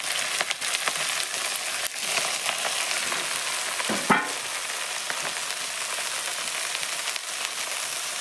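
Leafy greens frying with garlic, asafoetida and chilli in a pan, a continuous loud crackling sizzle with occasional stirring scrapes, no voices over it.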